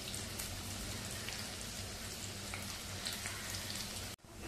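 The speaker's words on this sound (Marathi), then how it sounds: "सगळं चांगलं परतवून घेऊया." A tempering of cumin, green chillies and grated ginger sizzles in hot oil, a dense, even crackle that holds steady, then cuts off abruptly just before the end.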